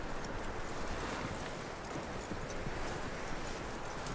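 Horse hooves clip-clop steadily and continuously in Red Dead Redemption 2, a soft, even trot that fills the clip on its own without talk.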